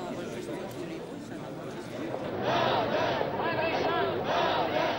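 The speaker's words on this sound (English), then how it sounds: "Outside the court is a crowd unable to enter inside" A crowd of people, children and grandchildren of the deported, gathers outside a courthouse, their voices a dense, steady murmur of overlapping chatter that swells louder midway and stays busy, with no single voice standing out.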